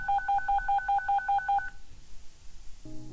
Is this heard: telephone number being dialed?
yes